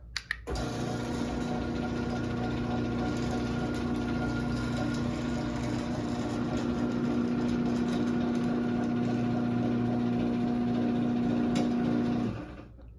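A Moore-O-Matic garage door opener runs as it closes the door, giving a steady, even motor hum and drive whine that holds for about twelve seconds, starting and stopping abruptly, with no voices.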